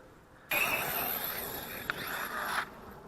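A Team Redcat BE6S RC truck's electric motor whines sharply for about two seconds as the brake is hit in midair, then cuts off abruptly, with a brief click midway; no talk.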